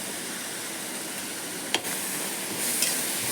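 Large onions and curry leaves sauté in hot oil for a crab gravy, giving a steady, even sizzle with a single sharp clink partway through and a slight rise in the frying hiss toward the end.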